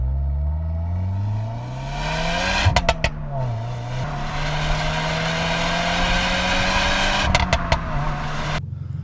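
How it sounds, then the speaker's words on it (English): A stock-tuned Subaru VB WRX on its stock exhaust, loud and close, its engine note rising and falling as it drives, with two sharp clusters of exhaust pops on lift-off partway through. "that clip shows it actually does pop with the stock exhaust and with stock tune"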